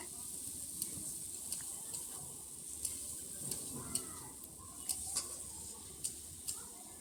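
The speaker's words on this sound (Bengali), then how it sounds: "দিয়ে আমি ভালো করে মশলাটাকে এবার দেখো কষিয়ে নিচ্ছি" Ground red chili and ginger paste fry in a pan for a Bengali-style chicken curry, giving a soft, faint sizzle with scattered small ticks and pops as it is stirred.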